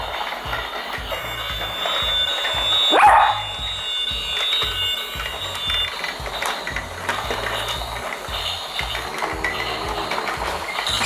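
Klocki Mubi toy block train running slowly across a table, giving off a steady, rhythmic mechanical clicking and whirring close by.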